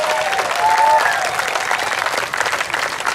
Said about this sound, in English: I give her another round of applause